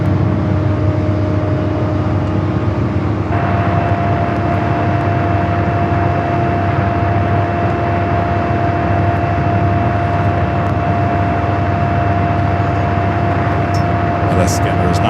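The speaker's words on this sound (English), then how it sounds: "United Dreamliner rolling down to 25 at right" A United Airlines Boeing 787 Dreamliner taxiing at LAX gives off a steady, loud jet engine whine and roar that continues throughout, with a constant hum underneath.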